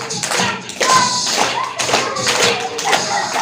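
Several hands clap in loose rhythm at a lively children's Maulid Nabi celebration, a dense patter of claps mixed with crowd noise and shouting.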